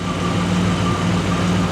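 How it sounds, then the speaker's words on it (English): A Buick Grand National idles smoothly and steadily up close, its low, even hum running alone without interruption. "for a Grand National, this thing is actually idling very well"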